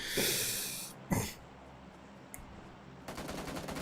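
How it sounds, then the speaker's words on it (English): Gunfire in the mobile battle royale New State Mobile during a competitive esports league match: an opening volley, a single heavy shot and a faint pop, then a rapid rattling burst near the end. "But he takes the fight, starts to shoot, can't cause any damage."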